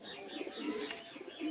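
Pigeons cooing on a rooftop loft, soft low throaty coos repeating close by through a short stretch with faint chirps, no talking.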